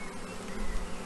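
Honey bees buzz steadily in a close, continuous drone while a hive frame is lifted out for inspection during the first check of the year, with no talk over the hum.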